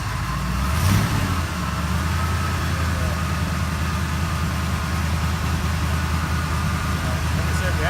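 A 1977 Ford F150 4x4 truck idles steadily after starting, its engine holding a continuous low rumble close by, with one brief bump in loudness near the start.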